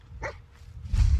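A dog in the video game Fallout 4 gives a short bark and a yip, close and fairly loud, with low game ambience underneath.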